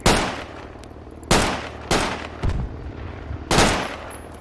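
Shotgun blasts in the military shooter game Project Reality, four or five sharp loud reports spaced irregularly over a few seconds, each with a brief decaying tail.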